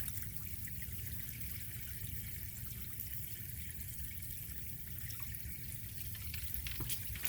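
Water trickles and drains steadily from a pool bubbler pump after its drain plugs are pulled, a faint continuous dribble with no voices.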